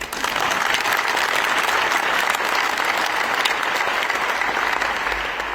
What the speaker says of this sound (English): We can clap for her too.